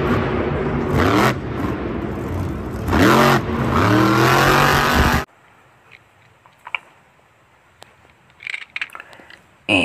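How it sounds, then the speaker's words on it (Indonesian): A toy monster truck plays loud revving engine bursts that rise and fall twice, then stops suddenly, followed by soft scattered clicks and handling noises. "Wow, ini ada mobil truk monster."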